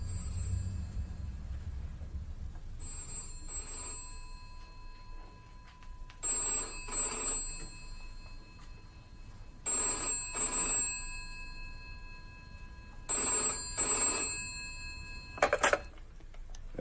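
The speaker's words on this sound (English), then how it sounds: "Is that the phone?" An old-fashioned telephone bell rings in a vintage radio drama, sounding in repeated bursts of double rings separated by short pauses, moderately loud and close, with no voices over it.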